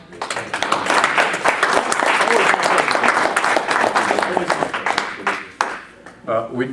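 Loud, dense applause from a community meeting audience rising quickly and holding strong before tapering off, with a voice speaking over the final seconds.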